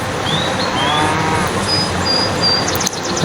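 A cow moos in the Meena video game, a long, loud low call over a steady background of game ambience, with a brief click near the end.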